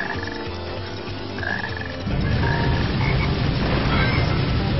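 In the Sonic Heroes game on PS2, in a jungle stage, a frog croaks repeatedly over a dense bed of in-game music and ambience, loud and close.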